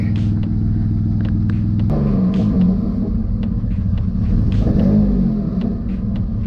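A rear-mounted engine on a track car idles steadily with a low, even rumble, close and continuous, shifting slightly in tone partway through as the idle is adjusted.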